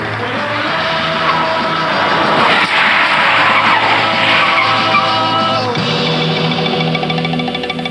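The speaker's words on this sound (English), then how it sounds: "Getting it to 70 miles an hour was bad enough, but stopping it took 244 feet." A car brakes hard from 70 mph, its tyres skidding and squealing in a long, loud, continuous screech over engine noise that lasts several seconds, with no voices.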